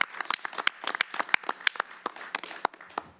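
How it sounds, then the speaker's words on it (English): Applause from the audience at a county board of commissioners meeting, a dense run of overlapping hand claps lasting a few seconds at moderate loudness, with no speech over it. "let's give a round of applause to the incredible team from the Sheriff's"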